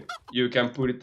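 A brief video-game chicken clucking sound effect for a monster mount plays in short bursts, mixed with a person speaking over it.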